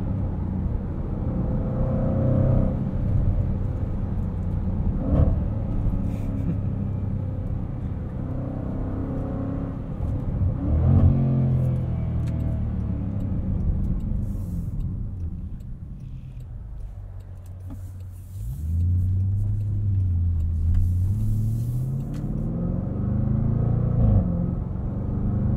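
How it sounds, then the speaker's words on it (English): A 2021 Jaguar F-Pace SVR with supercharged engine, heard from inside the cabin as a steady rumbling drone that rises and falls with acceleration, a thin whine riding above it and swelling in pitch toward the end. "Supercharger whine, but guys, I'm not complaining"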